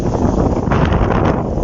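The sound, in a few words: hurricane-force wind during a storm on Sakhalin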